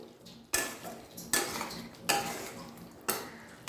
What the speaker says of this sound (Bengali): এবার এর মধ্যে আমি দিয়ে দিচ্ছি ভেজে রাখা পটলগুলো, ভালো করে মশলার সাথে কষিয়ে নিচ্ছি।